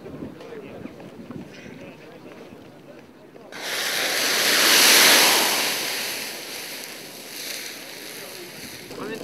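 Roughly 300–400 ml of water thrown onto burning fries in a pot of hot oil: a sudden loud roaring whoosh of flaring fire that swells for a few seconds, then settles into a steady hiss.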